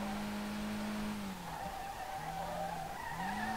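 Car tires squealing in a long, loud, continuous skid while drifting in the racing game Street Legal Racing Redline, the pitch sliding as the drift ends and then picks up again, with engine noise underneath.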